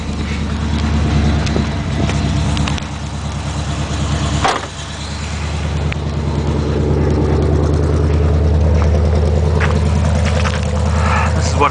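A Chevelle with 2.5-inch exhaust pipes idles after a cold start following about a month of sitting, giving a loud, steady, rumbling low drone with slight fluctuations throughout.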